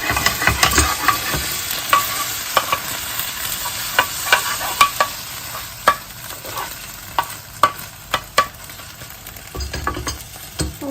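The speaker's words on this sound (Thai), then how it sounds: "อะน้ำมันร้อนแล้วนะคะ เดี๋ยวเราจะมาใส่ไข่" Eggs fry in hot oil in a pan, a loud continuous sizzle and crackle broken by frequent sharp spatula scrapes and taps in an irregular rhythm, with no talking.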